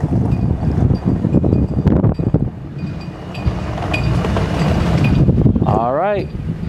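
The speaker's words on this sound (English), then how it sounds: "be prepared because it is extremely windy." Strong gusty wind buffets the microphone at an outdoor drag strip, a loud continuous roar and rumble that rises and falls throughout, with a person talking in places.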